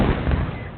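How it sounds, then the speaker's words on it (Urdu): Artillery cannon fire from a 31-gun salute by a field artillery regiment at the joint armed forces Pakistan Day parade in Islamabad, a single booming blast with a dense rumbling tail, loud and fairly close. "مسلح افواج کی مشترکہ پریڈ میں قومی علم کو 86 فیلڈ آرٹلری ریجمنٹ نے 31 توپوں کی سلامی دی۔"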